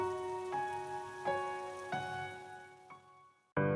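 Rain patters softly in an animated story under sustained musical tones, with several soft hits spread across the few seconds before a sharper burst at the end.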